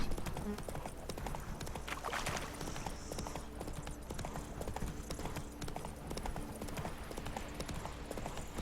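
Horse hooves clip-clop steadily in The Witcher 3: Wild Hunt, a continuous trotting rhythm heard up close for the whole stretch over soft game ambience, with no talking.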